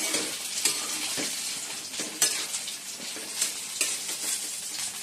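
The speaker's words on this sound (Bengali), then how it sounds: "এদিকে বেগুন ভাজছি" Eggplant slices fry in a pan with a continuous moderate sizzle, broken by the scrape and clack of a spatula stirring and turning them at irregular intervals.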